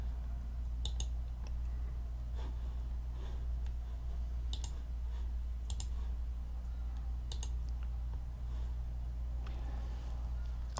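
Sparse, sharp computer mouse clicks, near and fairly faint, scattered over a steady low electrical hum while a file is chosen for upload during a theme install.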